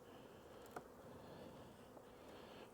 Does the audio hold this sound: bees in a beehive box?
yes